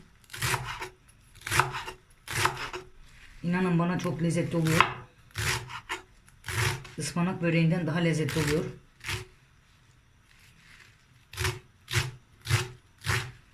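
Knife chopping labada (sorrel) leaves on a board for börek filling, a fast run of close, crisp strokes in a few bursts, broken by a voice talking between and over them.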